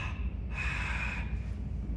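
A breathy, open-mouthed "ha" exhale of warm, moist air, like fogging up glasses or a cold window. It is a soft, airy rush that swells midway and then fades, heard close with no talking.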